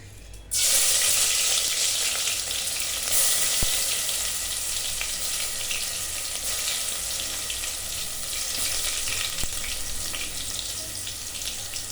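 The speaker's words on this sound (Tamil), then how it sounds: "வெந்தயத்தை தாளிக்க போட்டுக்குவோம்." Steady, loud sizzling of fenugreek seeds tempering in hot oil, a continuous crackling hiss that starts abruptly and holds without pause, with no talking.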